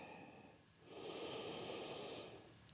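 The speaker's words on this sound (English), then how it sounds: "Breathing as we do this, in and out of the nose" Quiet, slow breath drawn in and let out through the nose during a beginner yoga standing posture, one soft airy inhale-exhale cycle close to the microphone with no talking.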